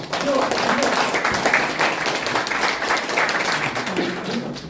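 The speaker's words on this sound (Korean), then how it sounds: "박수 한번 보내주십시오" An audience at the launch ceremony of an emergency committee for fair presidential elections claps in a sustained burst of applause, with a voice speaking over it.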